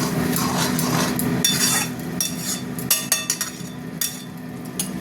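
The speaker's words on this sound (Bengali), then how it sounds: "এবার ভালো করে কষিয়ে দেবো" Spice masala with tomato paste being stirred and sautéed in a pan for a vegetable curry: a continuous sizzle with rough scraping, then several distinct spoon clicks and knocks against the metal toward the end.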